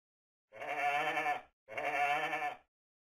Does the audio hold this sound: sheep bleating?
yes